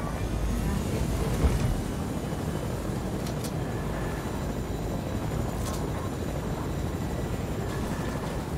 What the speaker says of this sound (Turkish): Abi geldi helikopter gidelim.